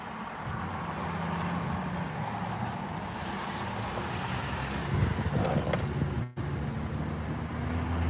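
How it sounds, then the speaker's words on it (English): Road traffic rumbles steadily nearby, a broad continuous wash of passing vehicles with wind noise and one brief dropout near the end. "Traffic."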